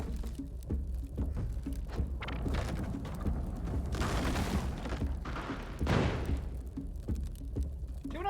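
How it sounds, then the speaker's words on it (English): An explosion goes off in the cave-exploring platform game Spelunky 2, heard as a dense, rumbling burst amid a steady layer of busy game noise, with a second heavy thump following a few seconds later. "Anyone else hear an explosion?"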